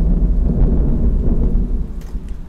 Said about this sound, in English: Padre Codger, that's thunder